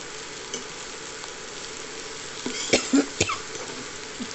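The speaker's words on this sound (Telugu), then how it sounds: "ఇలా ఫోర్క్ లాంటిదైనా కలపడానికి ఈజీ అవుతుంది అన్నమాట." Fork scraping and stirring okra curry in a pan, a few short clinks and scrapes midway over a faint steady sizzle of frying.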